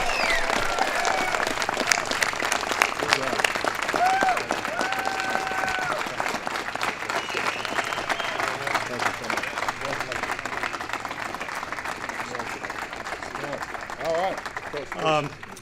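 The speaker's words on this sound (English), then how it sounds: "Big round of applause." Sustained applause from a crowd honoring the Super Bowl champion Denver Broncos, continuous dense clapping with cheers and shouted voices mixed in throughout.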